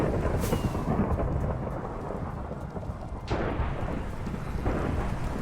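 Thunder rumbles during a thunderstorm in the video game Minecraft, a deep, steady roar under pouring rain with sharper cracks partway through and no talking.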